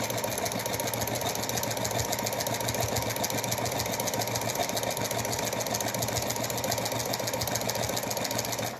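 A sewing machine stitches a zigzag steadily, its fast, even mechanical hum continuing without a break, fairly quiet and alone.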